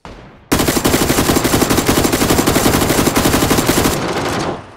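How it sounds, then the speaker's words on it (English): Rapid automatic gunfire in the battle royale video game PUBG, a loud sustained burst of closely spaced shots lasting about three and a half seconds before cutting off, with no talk over it. "Got you with the cover fire."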